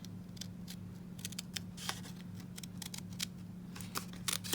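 Small scissors snip around a stamped paper image in quick, irregular bursts of crisp close cuts. A low steady hum sits underneath.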